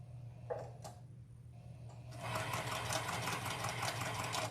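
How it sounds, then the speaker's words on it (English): After a short quiet gap with a few small clicks, a sewing machine starts stitching a quilt, a fast, steady, close mechanical chatter that runs on evenly to the end. "So then we're going to sew"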